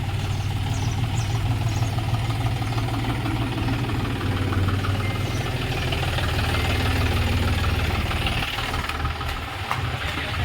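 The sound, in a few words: serviced tractor engine idling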